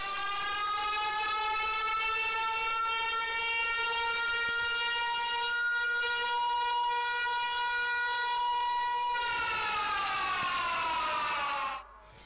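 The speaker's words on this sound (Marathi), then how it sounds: "बजर वाजवला जातोय." A loud electric buzzer or siren signals the start of a bullock cart race at a village racing ground, one long sustained wailing tone holding steady for about nine seconds, then sliding downward before cutting off abruptly.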